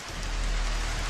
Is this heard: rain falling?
yes